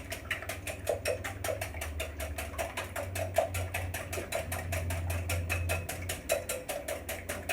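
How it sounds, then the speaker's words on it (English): A whisk beats four eggs in a bowl with a fast, even clicking rhythm of many strokes per second, close and steady throughout with no talking. "4 eggs. I'm going to whisk them up."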